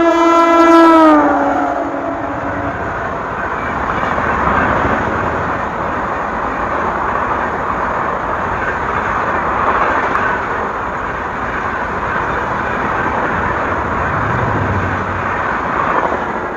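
The Falcon express roars through Ghatkesar railway station at 130 km/h, opening with a loud blast of the horn and then a sustained rushing rumble of coaches and wheels close by, with no voices.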